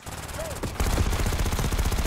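Minigun fire in Call of Duty: Black Ops 6 starts with a short burst, then breaks into a steady, loud, rapid stream of shots after a brief pause, with a faint sweeping tone before it.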